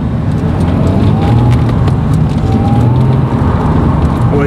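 Honda NSX rolling through a curve on freshly fitted tyres, with a steady, loud engine drone and road noise filling the whole stretch, rising slightly in tone without a pause.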